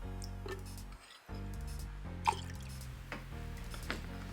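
Appleton Estate rum, 15 ml measured for a Jungle Bird cocktail, pours in soft dripping trickles and splashes, close and fairly quiet over steady background music.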